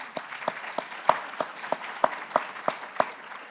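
Sparse, rhythmic handclaps from an audience at a shipping finance conference, about a dozen evenly spaced claps over a few seconds, moderately near and fairly quiet, with no voices over them.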